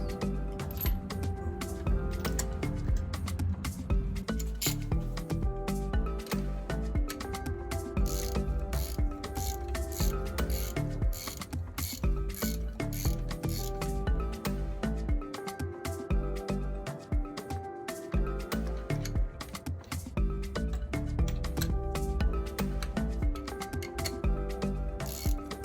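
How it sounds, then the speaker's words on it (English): Steady mechanical clicking from a torque wrench tightening spark plugs on a Volkswagen Caddy runs nonstop for the whole stretch. The ratcheting is close and even, over a faint background hum. "finish them off with a torque wrench, setting your wrench to about 22 to 25 Newton meters"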